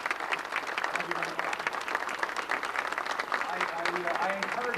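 Many hands keep clapping at a 1992 Adirondack Park centennial gathering inside an air museum, a steady roomy applause with a voice faintly speaking through the later part.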